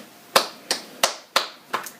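Five sharp single claps ring out at an even, deliberate pace, close and clear over a quiet background, each followed by a short room decay.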